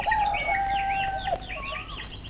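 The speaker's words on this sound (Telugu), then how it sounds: "కోడి కోత వేసేసింది" Rooster crowing close by, one long drawn-out call that breaks off into shorter trailing notes, with other faint bird calls behind it and no talking.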